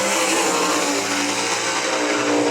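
Sprint race car engine on a dirt speedway track at I-96 Speedway, a loud, continuous roar sustained throughout with a steady, dense drone and slight shifts in pitch, close and unbroken.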